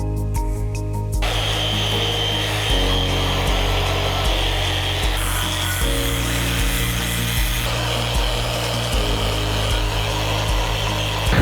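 A power polisher works a stone countertop sink cutout with polishing pads, grit stepping up toward 1500, giving a loud, steady whirring grind that shifts pitch as the tool is pressed and moved, with no talk.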